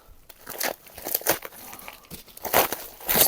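A plastic parcel bag from an online order crinkles and rustles in close, irregular bursts as it is handled and torn open, with no talking.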